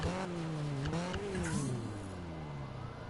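A police siren wails in a Need for Speed racing game, its rising and falling tone sliding over the rev of a car engine, heard faintly and at a distance.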